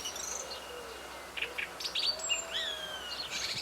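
A common chiffchaff sings outdoors in a windy natural setting, its short repeated chirping notes thin and moderately distant over a steady rush of wind, with other faint bird calls around it.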